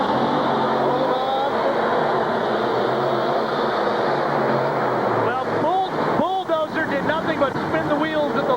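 Monster trucks race in the Minneapolis Metrodome in 1998, their engines a loud, steady roar in a large arena, with an announcer talking throughout and revving bursts growing rougher toward the end.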